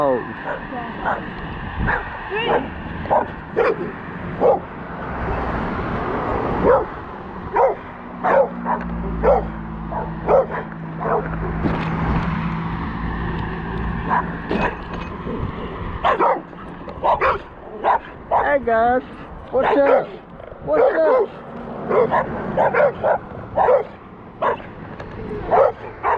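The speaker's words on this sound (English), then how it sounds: "Dogs." Dogs bark repeatedly in short yipping bursts nearby during an outing near an old school, with people talking and a low steady hum underneath.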